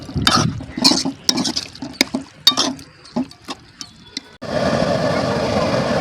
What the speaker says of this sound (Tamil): இப்போ தண்ணி ஊற்றிருக்கோம்.